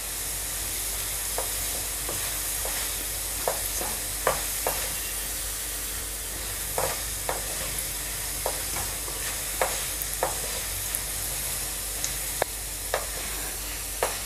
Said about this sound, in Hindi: अब इसमें हम डाल देंगे आलू, एक आलू लिए हैं। हम आलू को पूरी तरह पका लेंगे।